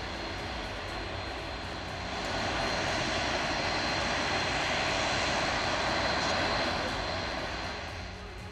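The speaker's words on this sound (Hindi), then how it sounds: "चेन्नई से आए इंडिगो विमान का स्वागत किया गया तिरुचिरापल्ली अंतर्राष्ट्रीय हवाई अड्डे पर" An IndiGo airliner from Chennai arrives at Tiruchirappalli International Airport, where it is welcomed with a water cannon salute. Its engines give a steady roar that swells in the middle and eases slightly at the end.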